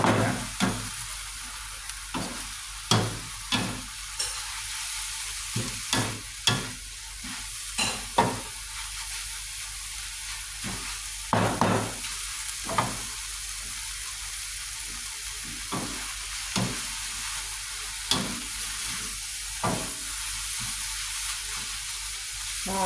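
Mussels being stir-fried in a hot pan: a constant soft sizzle broken by repeated sharp scraping and clacking strokes of a spatula, close and fairly quiet, no talking.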